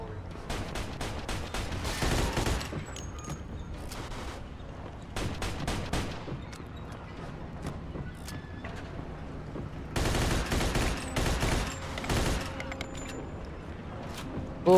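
Thompson 1928 submachine gun fire in the video game Mafia 2, repeated loud automatic bursts with short pauses between them, some rattling on for over a second, with faint game ambience underneath.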